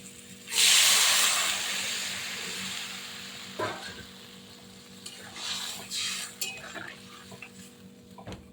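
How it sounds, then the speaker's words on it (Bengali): Water poured into a hot pan of papaya and potato curry sets off a sudden loud hiss that slowly fades, followed by a few clinks and scrapes of a spoon against the pot. "এবার আমি দেখুন জল একদম শুকিয়ে গেছে, জল দিয়ে দিচ্ছি।"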